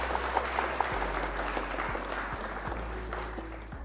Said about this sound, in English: Round of applause for opponent.